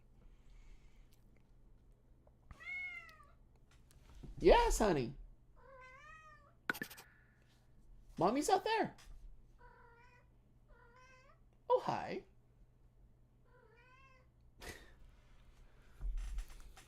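A house cat meows repeatedly in short, rising calls close by, interleaved with someone talking affectionately to it in a quiet indoor room.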